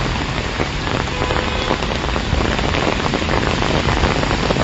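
Heavy rain pours down steadily in Belagavi, a dense, even hiss of drops striking surfaces close by, loud and unbroken throughout with no voices.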